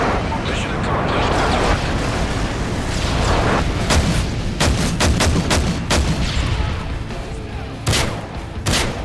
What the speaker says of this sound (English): Predator missile ready for launch.